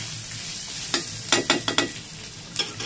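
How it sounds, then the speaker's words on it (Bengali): Ginger frying in a pan for a vegetarian rice dish is stirred with quick, separate scraping strokes over a soft, continuous sizzle, close and clear. "একটু নাড়াচাড়া করলেও ভাজা হয়ে যাবে"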